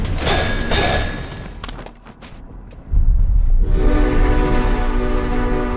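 A flying train in a video game sounds a loud horn blast, then a heavy thud and a deep, steady rumble that fills the rest of the clip, with no talk.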